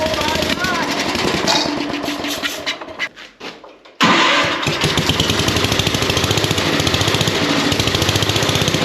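A brush cutter's small two-stroke engine catches after choking and throttling, running loud and close with a rapid buzzing stutter, briefly dropping out before roaring back at full revs; a voice talks over it.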